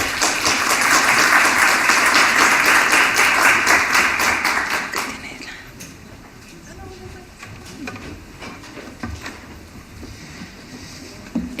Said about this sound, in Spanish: La invitamos a pasar adelante. Un aplauso.